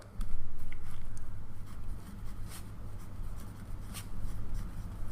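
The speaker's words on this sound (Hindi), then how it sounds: "तो यहां पे हम लिख लेते हैं" Pen or marker writing out a Class 10 maths solution on linear equations, a steady dry scratching and rubbing that runs continuously for several seconds, close and moderately quiet, with no talk over it.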